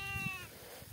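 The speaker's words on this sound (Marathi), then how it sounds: "तर या बघा मेंढ्या अशा आहे ना" A single sheep bleating close by, a short wavering cry that fades into faint outdoor background noise.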